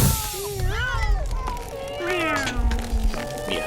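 Several kittens meow in overlapping, drawn-out cries, close and fairly loud, with a voice speaking faintly beneath them.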